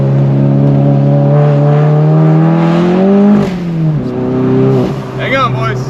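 A Volkswagen GTI with an IS38 turbo revs hard in a rising engine drone while doing rolling burnouts on wet pavement, then drops off into tyre scrubbing, with people talking over it.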